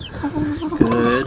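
Chickens cluck inside a crowded coop, with a short sustained cluck followed by a louder burst of hen clucks, close and clear.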